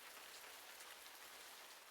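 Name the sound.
rain gently falling, from a video game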